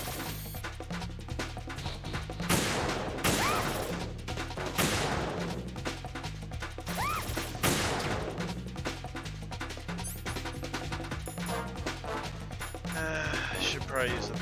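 Gunfire in the video game Metal Gear Solid 2: Sons of Liberty, a series of sharp, loud bursts spread through the clip over a dense, busy game background.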